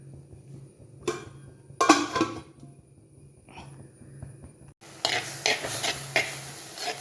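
Bitter gourd and leaf thoran is stirred in a pan, producing a few short, close bursts of scraping and clattering separated by near-silent pauses, with a faint soft sizzle in places.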